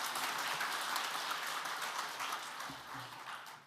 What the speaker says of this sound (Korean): 은혜로운 말씀을 전해주신 목사님께 감사 박수 드리겠습니다.